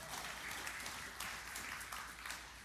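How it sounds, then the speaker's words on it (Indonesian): A church congregation applauding during a sermon, a steady dense clapping of many hands at moderate distance, continuous without talk. "Kalau cinta Tuhan, tepuk tangan lebih meriah lagi."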